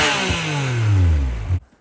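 A Yamaha YXZ 1000RR side-by-side engine revs hard and close, its pitch climbing in one sustained loud pull before cutting off abruptly.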